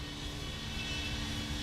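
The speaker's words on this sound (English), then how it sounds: "increasing power to avoid the mountains has caused the plane to resume its wayward up and down" Airliner jet engines droning at increased power, a continuous close, even roar with a steady whine, no voices over it.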